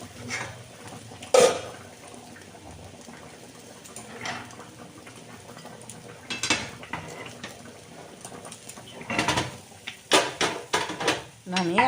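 Metal cooking pots clank and scrape as they are set onto and lifted off a gas stove while egg curry cooks. Sharp knocks come at irregular intervals over a quiet kitchen background.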